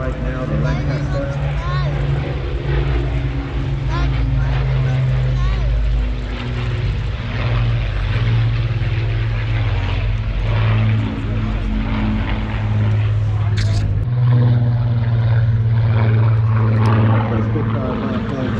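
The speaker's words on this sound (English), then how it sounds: "So of course, Spitfires, the big development, are coming from our right now, the Lancaster." Spitfire and Lancaster propeller aircraft at the Ayr airshow in Scotland, a steady droning engine hum with strong low tones that swells slightly toward the end, while a commentator talks over it.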